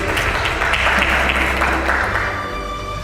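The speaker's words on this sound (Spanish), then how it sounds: "Fuerte el aplauso para el doctor Enrique Morgado Rodríguez." Audience applause greeting a doctor about to give a health talk in Mexico, a steady dense wash of clapping sustained for about three seconds before tapering slightly at the end.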